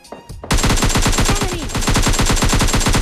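Gunfire in the video game BGMI Lite cuts in after a brief quiet moment. It becomes a loud, continuous stream of rapid automatic shots fired at close range that holds to the end.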